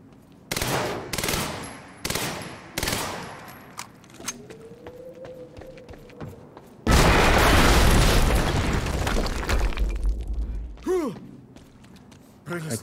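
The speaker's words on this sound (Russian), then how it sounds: "Около зоны добычи произошел взрыв." Explosion in the Quantum Break video game, in an industrial zone: a loud, broad roaring blast that sustains for several seconds after a series of sharp mechanical bangs and creaks, then fades with a whooshing tail.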